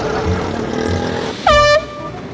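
A loud horn gives one short blast of about a third of a second over a noisy background hum, close and harsh. No voices are heard.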